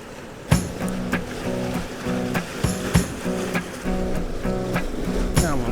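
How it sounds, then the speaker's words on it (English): Ocean waves wash onto the shore at sunset, a steady broadband surge with repeated sharp crests and splashes over a continuous rushing background, no voices. "I'm just waiting for the waves to come through to create a nice effect"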